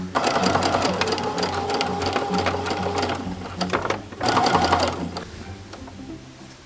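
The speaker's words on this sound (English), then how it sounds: "I'll be able to stitch over it here and it will be completely closed up." A sewing machine stitches a seam on a handmade pirate-style shirt, running in steady continuous bursts with a brief pause near the end, close and fairly loud with no talking.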